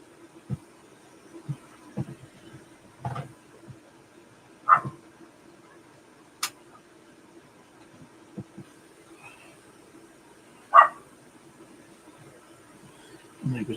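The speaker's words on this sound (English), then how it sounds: "Neighbour's dog out barking." Neighbour's dog barking outside, a scattering of faint, distant single barks and yips spread irregularly over a quiet indoor background.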